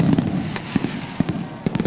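Fireworks crackle and pop in scattered bursts during a sprint car victory lane celebration at Grandview Speedway, with sharp reports spaced irregularly over a steady crowd-and-engine rumble.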